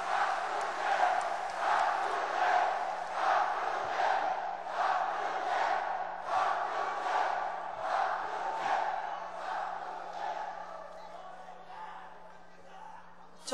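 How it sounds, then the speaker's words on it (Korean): A party rally crowd in Jeonbuk applauds and shouts for a candidate taking the stage, rhythmic waves of clapping and chanting voices that gradually fade toward the end. "힘찬 박수로 맞이해 주시기 바랍니다"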